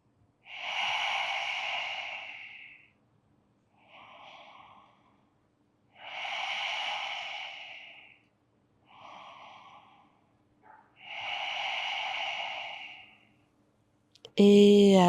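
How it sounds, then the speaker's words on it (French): Slow, deliberate breaths during a gentle yoga exercise for lower-back relief: three long, fairly loud breathing cycles, each a drawn-out breath followed by a shorter, softer one, alone in a quiet room. "On va respirer ici 3 fois."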